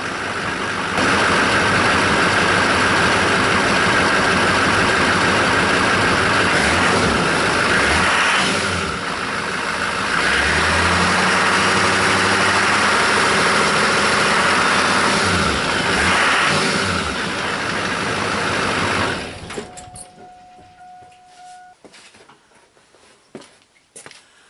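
A 2002 Chevy 2500HD with the 6.6L LB7 Duramax diesel, freshly fitted with a new alternator, runs loud and close, rising and falling through repeated revs before settling and cutting off near the end.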